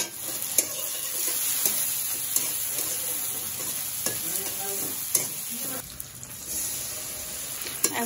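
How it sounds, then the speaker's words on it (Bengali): Chopped onion and tomato frying in a pan: a continuous close sizzle broken by sharp scrapes and taps of a spoon against the pan, with no speech. "এখন টমেটো দিয়ে টমেটোটারে গলিয়ে নিতে হবে"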